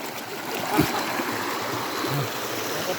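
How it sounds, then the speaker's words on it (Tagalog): A river stream flows steadily at night during a fishing trip, a continuous close rushing wash with a brief splash near the start and no talking. "Ito naman yung ilog."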